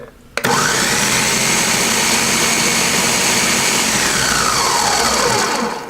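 A blender running on low speed while blending salsa, a steady loud whirring drone that starts abruptly after a brief pause and holds evenly for several seconds before easing off at the end.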